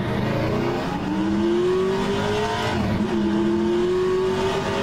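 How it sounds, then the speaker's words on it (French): A racing car from the Aussie Legends mod in the rFactor 2 simulator drones steadily, its engine pitch rising and dipping through gear changes at a moderate distance, with no voices over it. "Ils n'ont pas mis le même son sur toutes les voitures."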